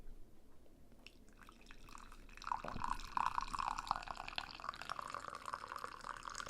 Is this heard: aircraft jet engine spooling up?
no